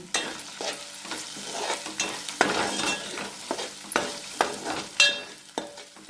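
Red chili powder masala fries and gets stirred in a pan for a cluster bean (guar) curry, with rhythmic spoon scrapes and clacks over a bright, crackling sizzle, close and fairly loud, with no voices.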